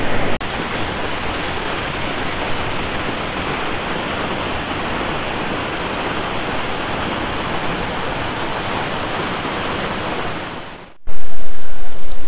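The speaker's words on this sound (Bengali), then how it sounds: "আমরা এই নর্মদা নদীর যে জলপ্রপাত দেখলাম কপিলধারা, এটা হচ্ছে নর্মদা নদীর প্রথম জলপ্রপাত।" Kapildhara, the first waterfall on the Narmada River at Amarkantak, roars with a loud, steady rush of falling water that holds unbroken for about eleven seconds before an abrupt cut to a different loud, noisy stretch.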